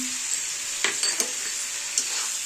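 Chicken and potato curry with turmeric, salt and chilli powder being stirred in a pan, soft sizzling under a handful of quick scraping strokes of the spoon, close up with no voices.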